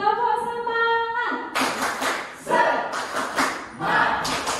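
A teachers' training session audience claps in loud rhythmic bursts of a spirit cheer, following a short sung or chanted vocal line, the group clapping in repeated patterned sets.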